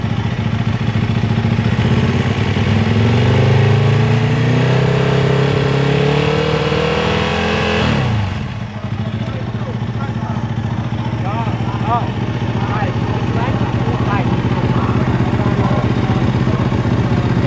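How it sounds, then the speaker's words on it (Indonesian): A Ducati V4 World Superbike race motorcycle, damaged after a crash, has its exhaust revved repeatedly up to about 5000 RPM for a sound check, loud and close, with people talking over it. "Dan di sini mereka bakal tes suara knalpot."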